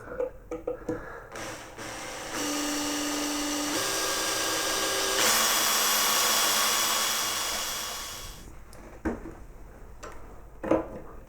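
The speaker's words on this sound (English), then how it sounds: "with my drill I'm going to start working a hole in the middle of this bolt." A power drill boring a hole into the middle of a steel bolt gives a steady high whine for about six seconds that shifts pitch partway through, with clicks and handling knocks before and after.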